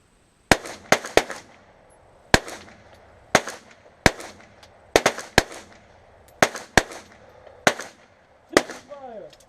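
A string of sharp, loud gunshots from several shooters at a range on a fire command, about a dozen cracks in uneven clusters, each ringing off briefly between shots.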